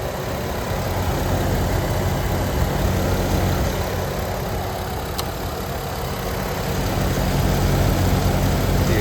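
A clean 3.8 liter engine in a Jeep Wrangler Unlimited Sahara 4WD idles with a steady, even hum and faint mechanical whir, continuous and close, with no talking.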